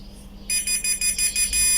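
A multimeter set to continuity beeps while testing the power wire of an electric kettle: a sharp, high, steady electronic tone sounds in short pulsing bursts after a brief quiet start, close and loud.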